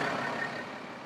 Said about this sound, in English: we've just pulled alongside the bus